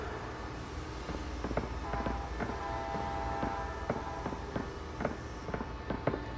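A train in a Batman: The Telltale Series game scene clatters steadily in the background with a rhythmic series of metallic clicks and knocks over a low rumble, faint and even, with no voices.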